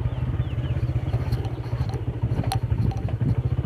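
A 125cc motorcycle is ridden through a public street, its engine running steadily with a pulsing low drone throughout, close and fairly loud.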